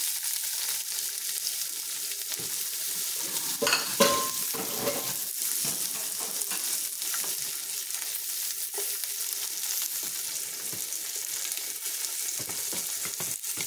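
Garlic and onion sautéing in a pan for an oxtail soup base, a dense continuous sizzle with occasional spatula clinks and stirs, close and fairly loud, no speech.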